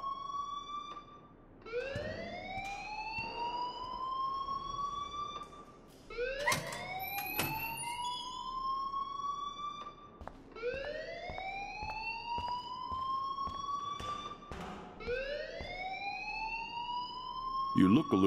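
A rising electronic alarm in the video game Life Is Strange wails in repeated upward sweeps, about every four seconds, steady and loud, with sharp clatter and speech underneath.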